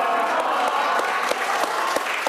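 A crowd of about fifty overseas Taiwanese supporters applauds warmly at a San Francisco hotel, welcoming TSMC's founder. The clapping is steady, dense and close, with a few sharper claps standing out.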